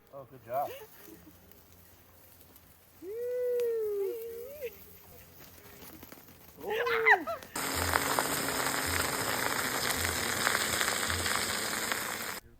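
Steak searing in its own fat in a skillet at a forest-road campsite: a steady, hissing sizzle arrives in the second half, after a stretch of quiet talk with a dog's whine.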